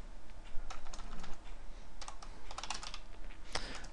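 Someone types on a computer keyboard while setting up a C++ Qt program, giving steady bursts of clicking keystrokes that are close and clear, with a louder clack near the end and no talking.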